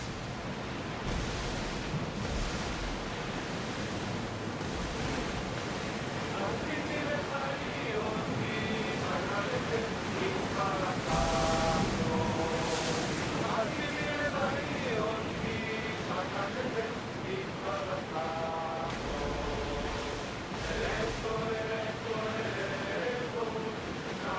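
A sailing ship at sea in the video game Assassin's Creed Odyssey gives a steady, dense wash of waves and wind that runs throughout, with voices and music layered over it.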